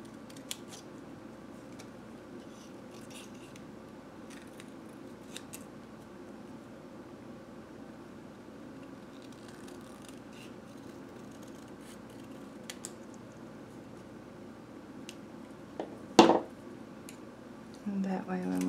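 Scissors cut freehand through gel print paper, making quiet, steady snipping and crisp rustling at close range over a low constant hum, with one sharper paper crunch near the end.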